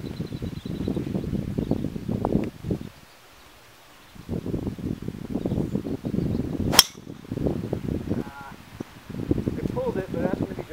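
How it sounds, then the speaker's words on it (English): A golf ball is struck off the tee during a practice round at a country club, a single sharp crack cutting through steady outdoor wind and nearby talk. "I'm gonna hit the same tee shot I hit in the last hole"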